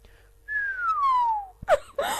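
A person whistles an imitation of a sooty owl call: one slow, long descending whistle lasting about a second, clear and close, followed by a sharp breath and brief voice sounds.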